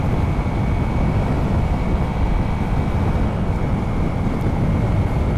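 A Honda CRF300L dual-sport motorcycle pulling away and accelerating on the road through the gears up to fifth, heard as a steady loud engine roar mixed with heavy wind rush, with no talking.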